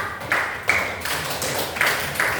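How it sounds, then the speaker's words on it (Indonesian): Group applause for the red team during a class activity: a few short bursts of clapping, moderately loud, separated by brief gaps over steady room noise, with no talking. "Tepuk tangan kelompok merah."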